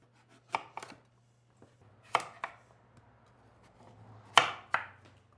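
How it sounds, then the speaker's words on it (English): A knife chops squash into wedges on a board, three distinct pairs of crisp, close cuts separated by quiet pauses, with a low steady hum underneath. "these I'm just gonna cut into wedges"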